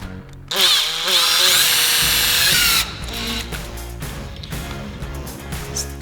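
A power drill whines at high speed studding the tires of a Classic Mini on a frozen lake, a loud sustained drilling burst that cuts off into lower grinding and mechanical rattling, close by.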